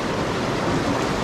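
Continuous broadband rush of river water flowing at Leuwi Kunten in Sentul, Bogor, steady and fairly loud throughout with no voices.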